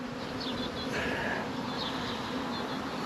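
Steady buzzing of many bees humming nearby during a honey harvest in New Zealand, with occasional faint higher chirps over the constant drone.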